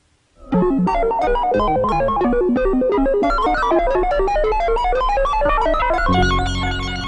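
Loud, dense music from TONTO, a huge analog synthesizer, with rapid cascading melodic notes and layered tones, playing continuously with no voices.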